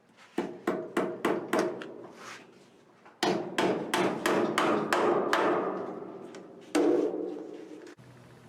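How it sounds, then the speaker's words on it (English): A hammer knocks the wooden door of a 1913 Ford Model T Touring body into place, sharp, close blows in quick bursts of four or five, pausing between volleys, with a final few heavier strikes. "the door was hitting, so I hammered it in a little"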